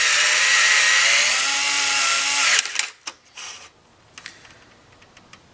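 A DeWalt DCF680 or Hitachi DB3DL cordless screwdriver drives a screw in a close, loud steady whine for about two and a half seconds, then cuts out abruptly, leaving faint clicks and handling noises.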